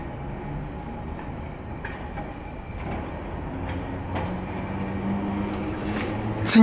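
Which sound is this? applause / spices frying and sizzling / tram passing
tram passing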